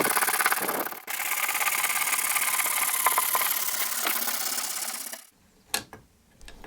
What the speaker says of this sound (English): I used a sanding block and 180 grit sandpaper, and I went over this whole area